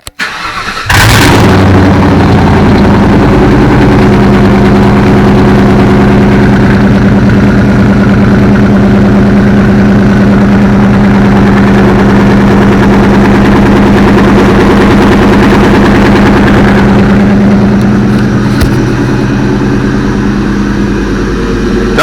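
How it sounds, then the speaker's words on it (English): A car engine, nicknamed Black Knight and fitted with 3.73 rear end gears, cranks over from cold and catches with a loud burst, then settles into a steady, rumbling idle that continues to the end. "let's get that wonderful cold crank start that y'all love"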